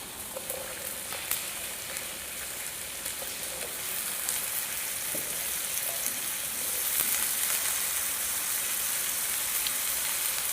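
Spiny gourd sizzles steadily in hot oil with garlic, a dense crackling hiss with occasional sharper pops, and no one speaks.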